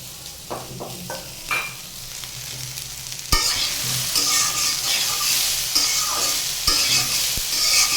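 Vegetables and soybean chunks stir-fry in a pan on a stovetop, with a steady hiss of frying and repeated scraping stirs that grow louder and busier partway through, no voices.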